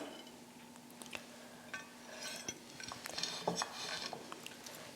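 Fried mackerel being served onto a plate, with scattered light clinks and scrapes of cutlery against dishware, fairly faint and irregular, busier toward the end.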